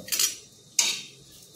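Okra pieces on a hot flat tawa griddle over low heat, giving two short bright metallic scraping and clinking bursts of a utensil against the pan, with quiet sizzle between and no talking.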